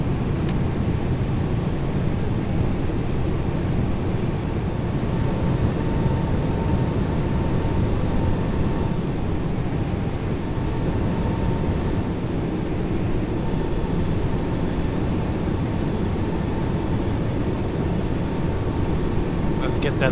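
Airbus A321 with Pratt & Whitney engines in a flight simulator, a steady loud broadband roar of jet engines accelerating after flap retraction, continuous and even throughout.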